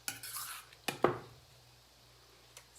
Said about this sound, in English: I'm going to give the salsa a little bit of a stir again